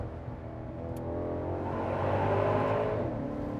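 Maserati Quattroporte V8 on its stock exhaust revving, a deep engine note swelling gradually and holding near the end, moderately close and alone without talk.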